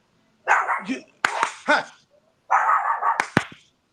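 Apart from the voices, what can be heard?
dog barking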